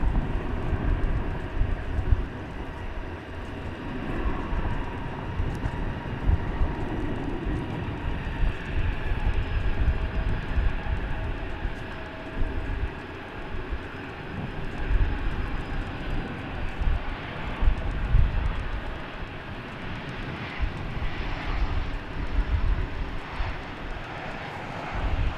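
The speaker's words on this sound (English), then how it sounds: "Time for an Aero Mexico Connect Embraer E190" An Aero Mexico Connect Embraer E190 jet from Mexico City takes off at DFW Airport, its engines a steady, powerful low roar and rumble that holds at a distance throughout.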